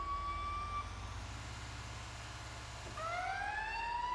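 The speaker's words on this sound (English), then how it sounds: "There, now it's got a siren." A wailing emergency vehicle siren in a video game sweeps up and down over a low engine rumble, fading midway and then rising again.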